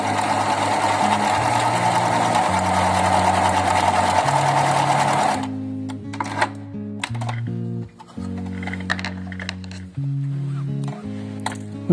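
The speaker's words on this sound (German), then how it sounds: "lege ihn quer, also mit der elastischen Seite in die Maschine und nähe" A domestic sewing machine stitches crosswise through thin lining fabric with a steady, loud mechanical whirr that stops halfway, followed by short bursts of stitching and pauses.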